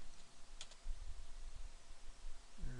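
Computer keyboard typing a terminal command: quiet, irregular clicks of keys tapped in a short run, close by with no talking.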